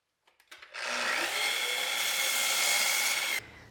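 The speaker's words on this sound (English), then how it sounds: "I just cut mine over on the miter saw" A miter saw spins up with a few short knocks, then cuts steadily through a wooden fence picket for about two and a half seconds, a loud, even whining buzz that stops abruptly.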